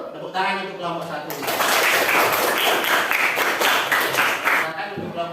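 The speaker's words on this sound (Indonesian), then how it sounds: "Tepuk tangan untuk kelompok 1." A classroom group claps for group 1, a dense burst of hand clapping lasting a few seconds that follows a short spoken line and then dies away.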